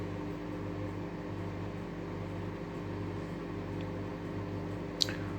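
A Sharp microwave oven runs with a steady electrical hum and droning whir, unchanging throughout, with one small click near the end.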